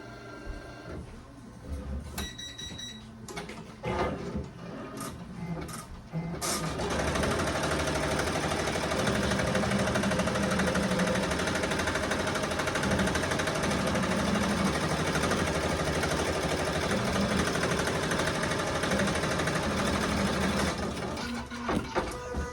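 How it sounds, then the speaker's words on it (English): Embroidery machine running a tack-down stitch for an appliqué shirt, a steady loud mechanical whirring and rapid needle chatter that starts after a few seconds of quieter handling noise and continues unbroken to the end. "So now the machine is stitching with tack down stitch."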